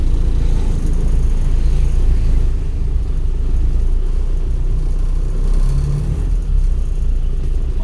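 Road traffic rumbles through Iligan City on a Sunday morning, a continuous low drone of passing cars and motorcycles with engines swelling and fading nearby.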